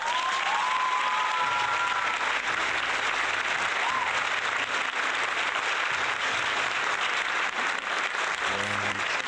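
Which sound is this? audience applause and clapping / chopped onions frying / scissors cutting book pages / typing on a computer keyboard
audience applause and clapping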